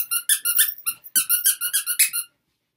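A dog's squeaky toy is squeezed again and again in a quick, uneven run of about a dozen high, close squeaks, then goes silent.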